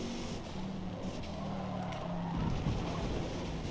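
Race car engine in Forza Motorsport, an NA class car, droning steadily with a low rising tone and a brief tire scrub near the end.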